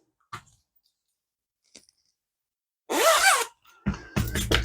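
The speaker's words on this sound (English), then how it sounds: "Pull your zipper back up." A metal zipper on a pleated zippered fabric bag is pulled in a quick rasping stroke, followed by a second longer zip, close and clear after faint taps and handling.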